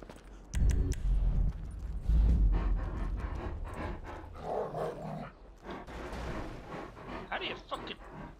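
In a video game, the dog Chop pants and gives a few short barks and growls in the foreground, with background sounds and a voice talking over parts of it.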